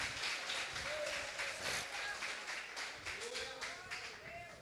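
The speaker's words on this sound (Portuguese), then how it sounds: "Aplauda o Rei que te fará alcançar grandes coisas para a honra e glória do nome de Jesus." Church congregation applauding at a worship service, a steady wash of clapping across the whole stretch with a few shouting voices mixed in.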